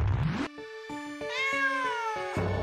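A cat meows in a run of drawn-out, rising and falling calls, close and clear, with short pauses between them.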